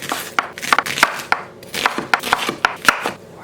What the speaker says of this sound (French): La première étape, ça va être de venir hacher l'oignon